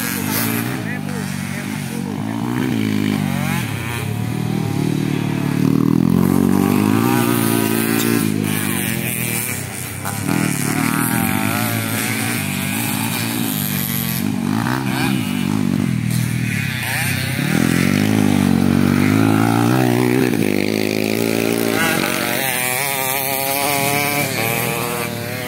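Motorcycles at a grasstrack race rev and roar loudly for the whole stretch, engines rising and falling in pitch as bikes pass close by, with voices shouting over the noise.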